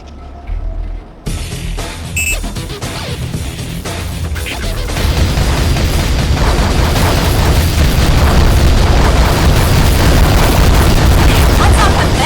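Bion battleship blowing up underwater in the game AquaNox: a sudden loud boom after a brief quiet, swelling into a sustained roaring, crackling rumble of debris that stays dense and loud to the end.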